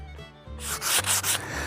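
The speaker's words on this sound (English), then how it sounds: "You notice I am sanding with the grain." Sandpaper, 150 grit, rubbing back and forth along the grain of a wooden axe handle in quick, scratchy strokes, close by and fairly loud after a quiet start.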